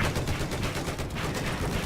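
An LAV canister-shell cannon fires like a shotgun in Battlefield 4, giving a loud, dense stretch of booming blasts and rumble that runs without pause.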